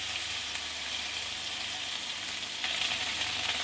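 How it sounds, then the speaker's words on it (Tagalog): Potatoes frying in a pan for pork adobo, a continuous bright, hissing sizzle heard close up and steady throughout, with no talking. "Mabango kasi yung patatas pag prinito mo siya na ihahalo sa adobo."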